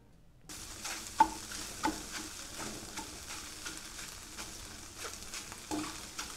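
Food being scrambled and stirred in a hot frying pan, a steady close sizzle with periodic scraping knocks from the utensil, no talk.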